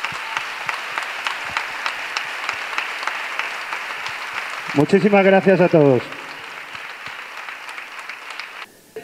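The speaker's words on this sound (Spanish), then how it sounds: "le pido, por favor, ese fuerte aplauso para ella." Applause at a Miss Jaén 2010 beauty pageant gala fills the clip as a steady dense patter, broken midway by a short loud burst of spoken thanks, then continues more faintly.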